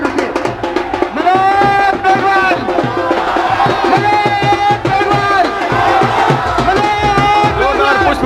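A large crowd at a Congress election street-corner rally in Puliya Chowk roars and chants continuously in rhythmic waves of voices, loud and close, with shouting mixed throughout.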